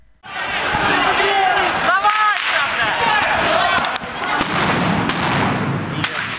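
A grenade detonates in recorded footage: a sharp blast at the start, then a dense, loud stretch of roaring, crackling noise with sudden impacts, and voices shouting over it throughout.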